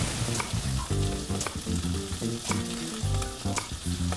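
Steak frying in a pan in the restaurant simulator game Chef Life, a steady crackling sizzle with periodic stirring scrapes over a backdrop of tonal game music.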